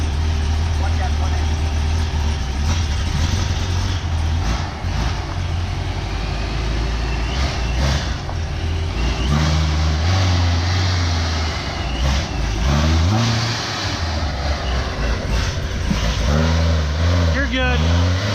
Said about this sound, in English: just the fucking blow-off valve under there is loud